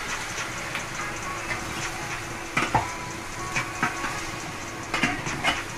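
Liver sautéing in oil with onion and garlic, a steady close sizzle of frying with a few brief stirring clatters.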